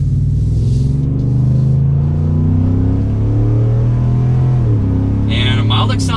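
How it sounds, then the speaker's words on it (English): A 2022 Ford F-150 XLT FX4 with a V8 engine accelerates with a loud, steady low rumble that rises in pitch, then shifts near the end as other noise cuts in. "We're gonna give it an acceleration here and listen to it roar."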